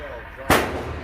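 A single sharp 9mm handgun shot cracks loudly and close at an outdoor shooting range, with a brief decaying tail and low background noise.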